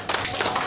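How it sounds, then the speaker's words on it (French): Applause breaks out from the audience at a public debate, a brief dense burst of many hands clapping that stays loud and even for under a second. "Oui, vous pouvez les applaudir, bravo."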